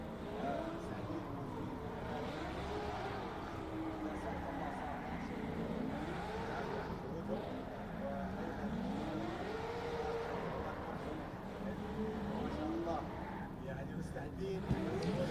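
A drift car engine warms up, revving and idling with rising and falling pitch, steady and continuous, with crowd noise and talk in the background at a drift championship.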